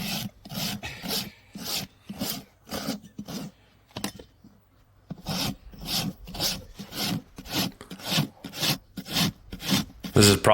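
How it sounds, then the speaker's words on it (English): Farrier rasping a massive draft horse hoof with a hand rasp, loud rhythmic back-and-forth strokes in two runs separated by a brief pause, close and alone. "one of the hardest parts of my job is rasping"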